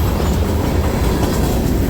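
Norfolk Southern freight cars roll steadily past — boxcars, gondolas loaded with scrap iron, tankers and hoppers — with a continuous close rumble and faint clickety-clack of wheels on rail, no voices.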